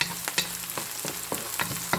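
Minced garlic sautés in a hot pan for beef giniling, a steady close sizzle broken by regular scrapes and stirs about every half second, with no voices.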